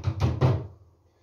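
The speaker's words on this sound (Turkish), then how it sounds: "Kavanozu kapatacağım, aklı üstte kapı. Turşuyu koyduğum şeyi kapatıyorum." The lid is closed on a jar of homemade pickles, giving three quick, dull knocking thuds close by that fade into quiet.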